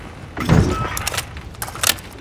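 A gun being reloaded in a multiplayer shooter game, close clicking and metallic clacks in a short rattling sequence without talk.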